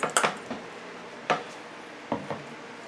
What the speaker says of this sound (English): Now, I'm going to mix it all together.